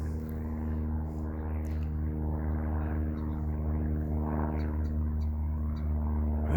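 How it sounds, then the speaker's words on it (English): A small propeller airplane drones steadily overhead, a continuous low rumble with a buzzy engine tone that holds fairly constant throughout, outdoors with no talking. "there goes that little airplane"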